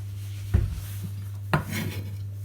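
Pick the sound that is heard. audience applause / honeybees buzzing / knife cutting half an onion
knife cutting half an onion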